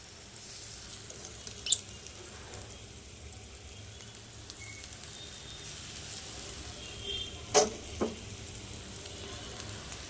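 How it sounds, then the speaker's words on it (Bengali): Rice stir-fried with vegetables in a pan gives a quiet, steady low sizzle, broken by a few sharp scrapes and clinks of the stirring spoon; no one talks. "অর্ধেকটা চাল মিশিয়ে দিলাম। এবার একটু নাড়াচাড়া করে নেব।"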